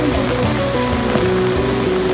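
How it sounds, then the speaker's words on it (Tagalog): Heavy rain pours steadily in the Batangas countryside, a dense continuous hiss with a faint tonal hum running underneath, no voices breaking through. "lakas ng ulan, no?"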